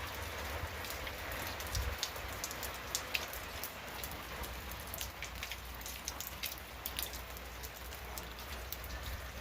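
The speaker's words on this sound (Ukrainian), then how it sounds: "у нас дощ на дворі" Steady rain pattering outdoors, with scattered sharper drips on a surface; no voices, a constant soft wash of sound throughout.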